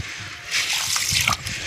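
Dried pigeon peas poured into a vessel of water for soaking, giving a short splashing, trickling pour that lasts about a second, close and fairly loud, with no talking.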